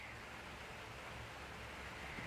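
Rain starting to fall on a farm pen with an animal sheltering inside makes a steady, even hiss of drops for a couple of seconds, fairly faint, with no voices.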